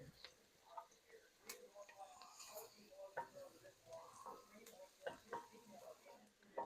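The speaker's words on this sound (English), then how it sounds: "Okay, those onions are sauteing" Onions sauté in a pan, giving a faint, soft sizzle broken by occasional stirring scrapes and light taps of a utensil, close by and quiet, with a voice heard at times.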